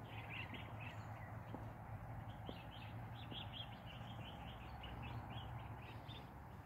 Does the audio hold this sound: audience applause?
no